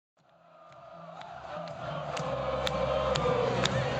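A record-setting college football stadium crowd of 115,000 at Michigan hosting Notre Dame, a steady broad roar that swells gradually and stays loud and dense, with no clear individual voices.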